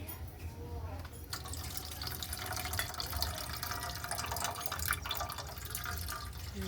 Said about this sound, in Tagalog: Bigyan po natin ng konting tubig.